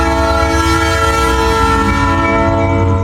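A train passes outside, producing a loud, steady rumble layered with sustained horn-like tones that hold for the whole stretch, with no voices.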